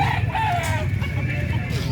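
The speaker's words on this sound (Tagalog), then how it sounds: "Mga manok ni sir." Chickens cluck and cackle steadily close by at a livestock market in Malasiqui, with a constant low background hum.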